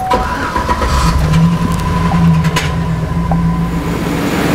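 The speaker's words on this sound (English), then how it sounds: "So let's go ahead and start this vehicle up." A 2009 Chevy Silverado with a 5.3 V8 and a failing lifter misfire runs steadily at close range, a continuous loud engine drone with a low hum throughout.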